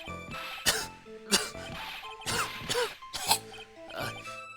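A character in the Phoenix Wright: Ace Attorney video game gives a fake cough, a run of about five exaggerated, voiced coughs in uneven bursts, loud and close, with tonal game sound beneath.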